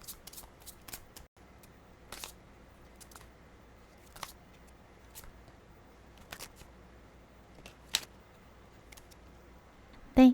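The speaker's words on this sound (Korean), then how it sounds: "카드 뽑아보겠습니다" Tarot cards drawn from a deck during a weekly fortune reading, giving sparse, soft papery flicks and taps over a quiet room hum, ending in one louder knock.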